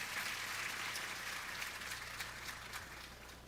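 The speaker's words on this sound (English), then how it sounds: "Round of applause to her." Steady audience applause fills a hall at the opening of the 2nd Virada ODS event in Brazil, a dense, even wash of many hands clapping that holds loud throughout and tapers slightly toward the end.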